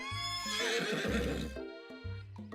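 A horse neighs loudly and close, a long shrill whinny that rises and falls, followed by a shorter snort-like whinny and faint hoof sounds as it rears up.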